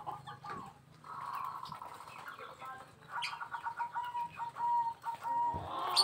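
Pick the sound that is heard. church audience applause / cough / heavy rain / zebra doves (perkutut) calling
zebra doves (perkutut) calling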